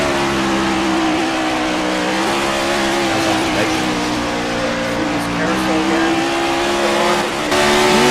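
Virtual race cars lapping Watkins Glen, loud engines droning and shifting pitch as they brake and accelerate, tires squealing at times, with commentary running over the top throughout.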